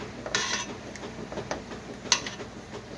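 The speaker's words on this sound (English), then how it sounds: "I've got a spatula I scrape the bottom with" A spatula scrapes and stirs the bottom of a pot of cooking Mennonite sorghum indoors, giving soft steady scraping with a few sharper metallic clinks against a low background hiss.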